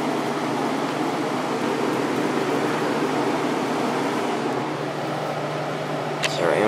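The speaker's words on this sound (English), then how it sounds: "Let's go to low fan." A Fedders 7500 BTU window air conditioner hums and blows steadily on its low fan setting, with a low motor drone and broad airflow hiss. The sound is close and continuous, and a brief knock comes near the end.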